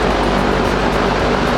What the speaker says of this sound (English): Sorry about the fan and background noise